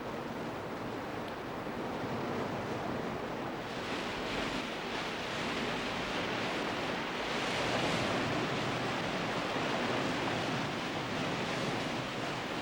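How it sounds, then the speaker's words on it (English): Surging river rapids below Paloona Dam in Tasmania roar in a steady, dense wash of churning water that swells slightly midway and never lets up. "The surging rapids just below the Paloona Dam have provided a fun playground for the boys"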